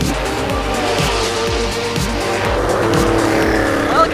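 A 1987 Porsche Group C prototype, the Le Mans winner, brakes hard on a racetrack with loud, close tire squeal and a rhythmic pulsing engine, heard alone.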